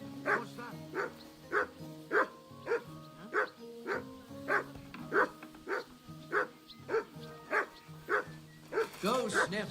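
A dog in the medieval role-playing game Kingdom Come: Deliverance II barks in a steady rhythm, with about a dozen loud, clear woofs close by and a little whimpering near the end.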